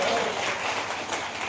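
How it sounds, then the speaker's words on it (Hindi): Audience clapping at a rally on old pension rights, a diffuse patter of hands that stays moderate and fairly distant for under two seconds, with no voices over it. "आपकी तालियां बता रही कि थोड़ा थोड़ा।"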